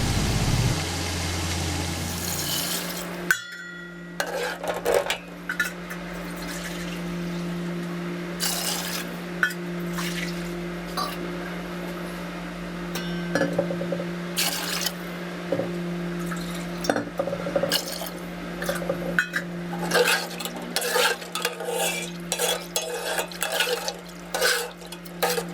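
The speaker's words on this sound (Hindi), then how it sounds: "गोश्त फ्राई होने के बाद पानी डालेंगे।" Water poured into fried meat in a pot while making chicken biryani, then stirred with a utensil, giving scraping, clinking and sloshing sounds in irregular bursts, close and fairly loud, with a steady hum beneath.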